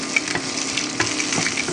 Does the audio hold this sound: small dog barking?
no